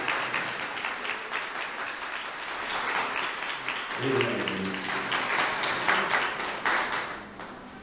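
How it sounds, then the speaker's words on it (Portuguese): A church congregation applauds in steady, dense clapping throughout, with a brief spoken word and a short musical swell midway under the applause. "Vamos aplaudir o nome de Jesus por isso."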